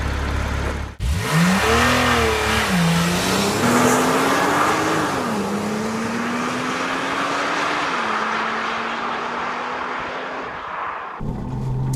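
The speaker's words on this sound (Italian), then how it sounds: "questa è la Porsche 911 Carrera 4 Targa" Porsche 911 Carrera 4 Targa pulling away and accelerating, engine note rising through gears with audible shifts, loud and close after a brief door-like thump at the start, then cutting off near the end.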